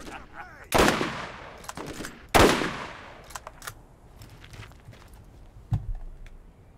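Gunfire in the video game Borderlands, aimed at a rock: two loud, close bursts of shots, then scattered lighter impacts and a final single shot, with no talking.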